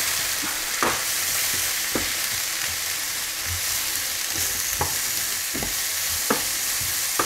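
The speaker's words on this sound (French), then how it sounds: "on va faire suer carottes et oignons comme ça pendant à peu près 2-3 minutes" Onions and carrots sweating in a pan for a pork sauté, a steady close sizzle broken by regular soft scrapes and knocks of a utensil stirring, with no talk.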